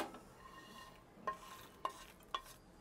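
Dry-roasted almonds are shifted from a pan into a bowl, heard as faint scraping with three sharp, close clinks spaced about half a second apart.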